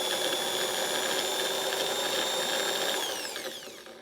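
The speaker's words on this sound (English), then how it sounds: "I strapped my drill to my workbench with some rebar wire and some wood screws." An electric drill strapped to a workbench spins a wood blank with a steady, high-pitched whine, then winds down as it slows near the end, with no talk.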